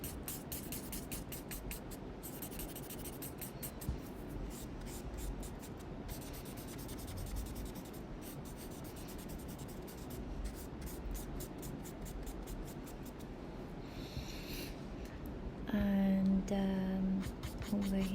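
A charcoal pencil rubs and scratches across paper during a still life drawing. The strokes are steady, close and continuous, with a soft gritty hiss, and a brief squeak near the end.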